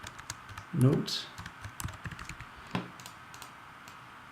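Quick clicks of typing on a computer keyboard, close and light, scattered in short bursts while a voice speaks over them.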